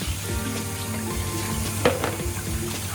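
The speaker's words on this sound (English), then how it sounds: "You put it back, pour in some water" Water poured into a pot for Nigerian onugbu soup runs and splashes steadily for a few seconds, with a brief louder splash near the end, close by and alone.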